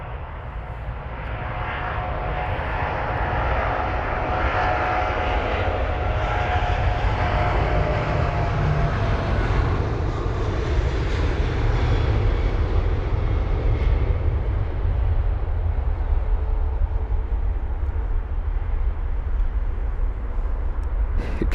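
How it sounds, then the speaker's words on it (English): A 14-year-old British Airways Boeing 777-200ER, flight BA119 at London Heathrow, roars past with loud engines, a broad continuous jet rumble that swells and holds for the whole stretch without talk. "BA119 next at the part, the Boeing 777-200ER with the Reg Golf Yankee Mike Romeo off to Bengaluru. 14-year-old jet, quite loud"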